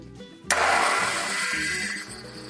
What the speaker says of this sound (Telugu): దీన్ని ఇప్పుడు మిక్సీ పట్టేస్తున్నాను